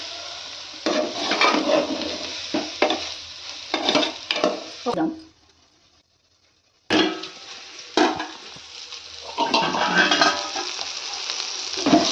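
Soya chunks (meal maker) stirred and frying in oil in a pan: repeated scraping stir strokes over a steady sizzle, close and clear, pausing into near silence midway before the stirring and frying resume.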